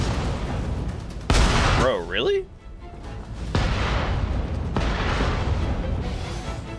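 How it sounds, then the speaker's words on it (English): Cannon fire from several cannons in the video game Nioh 3 crashes in loud booming bursts, breaking out in two or three heavy waves across the scene while someone talks over the barrage. "We're getting shot at by multiple cannons here."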